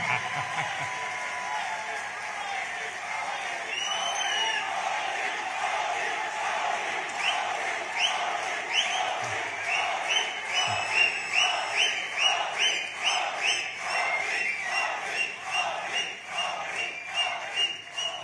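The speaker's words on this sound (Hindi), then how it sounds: "आपने ताली तो बजा दी" An Indian community audience at PM Modi's speech in Abuja, Nigeria, keeps up continuous cheering and shouting, building into loud, rhythmic clapping in unison.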